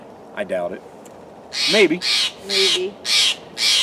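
A bird squawks noisily from a tree at night in moonlight: five harsh, loud calls in a steady rhythm, following a few words of talk.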